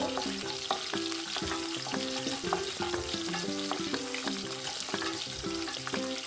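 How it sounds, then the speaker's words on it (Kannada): Green chillies and garlic frying on a low flame in a pan, giving a continuous dense sizzle with a rapid, regular clatter of stirring against the pan, close and steady, with no voices. "ಹಸಿಮೆಣಸಿನ್ಕಾಯಿ, ಬೆಳ್ಳುಳ್ಳಿ ಸ್ವಲ್ಪ ಚೆನ್ನಾಗಿ ಘಮ ಬರೋವರೆಗೂ ಹುರಿಬೇಕು. ಕಮ್ಮಿ ಉರಿಲೇ ಹುರಿಬೇಕು."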